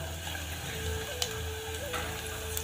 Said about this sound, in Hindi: प्याज का तड़का लगा रही हूँ मैं